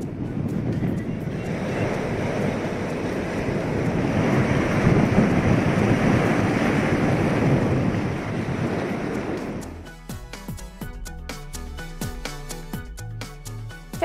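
Rough, churning sea waves at Pamban roar steadily in a dense, windy wash, swelling slightly mid-way, then give way to news music for the final seconds.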